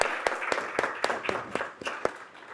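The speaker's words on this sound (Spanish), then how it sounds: "Vamos a dar otra ronda de aplauso para todo el panel." Applause for a journalism panel at a conference, made of distinct, fairly spaced claps at a moderate, uneven rhythm, somewhat thin and not very loud.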